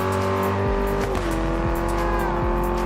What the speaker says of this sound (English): Take a listen to this Alfa Romeo.